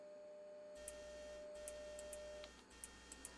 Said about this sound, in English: I'm going to record a 600Hz and 400Hz tone. A bit more gentle.